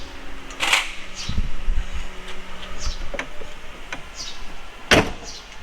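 A Jeep's rear cargo area door swings shut with a cooler loaded inside, heard as a couple of close mechanical clunks and a sharp latch thud near the end, with light rustling between and no talk.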